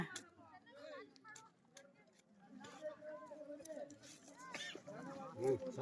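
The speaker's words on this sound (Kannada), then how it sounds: "ಒಂದು ಕೋಳಿ ಇದೆ ಕೋಳಿ ಹಿಂಗೆ ಸಾಕಿದೆವು" A hen on a hill trail gives short, wavering clucks and calls in scattered bursts, close by, mixed with people talking and the rustle of walkers.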